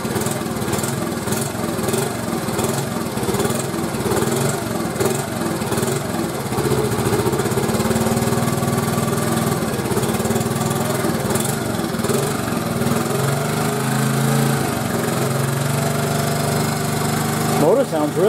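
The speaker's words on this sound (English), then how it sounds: "Motor sounds really good, guys." A 1986 Honda TRX 70 ATV engine idles after a top end rebuild, a steady close rattling putter with a small rev near the end, with someone talking over it at times.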